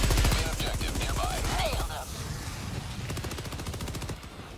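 Rapid automatic gunfire in Helldivers 2, a loud, dense stream of shots that stutters and pauses, then resumes in bursts, with voice chatter over the top.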